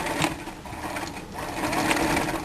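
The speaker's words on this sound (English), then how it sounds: "stick those under our presser foot, and we're going to zigzag the edges together." A sewing machine running a steady zigzag stitch across swimwear elastic, a continuous close mechanical whir with no pauses.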